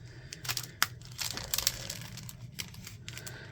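Crinkly plastic rustling with a few sharp snips and crunches, close up and moderately loud, no talking.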